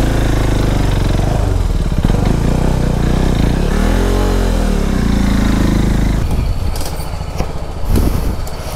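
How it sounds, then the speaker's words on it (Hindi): A motorcycle engine runs loud and close indoors, holding a steady idle, swelling through one slow rev and settling back, with some clattering handling noise near the end. "बाइक को करते अंदर पार्क।"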